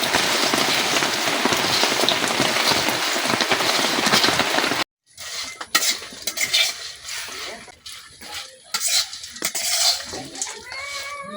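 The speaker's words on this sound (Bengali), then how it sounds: "অল্প আগুনে আস্তে আস্তে আমি বাদামগুলো ভাজা নিচ্ছি" Peanuts rattle and scrape in a pan as they are stirred while roasting over a low flame, with scattered clinks over a steady hiss of rain in the background.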